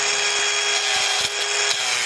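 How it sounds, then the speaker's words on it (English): An angle grinder cuts through a stuck bolt during a renovation of an 18th-century building, a loud steady high-pitched grinding whine close by, running continuously for a couple of seconds before cutting off. "so it's grinder time"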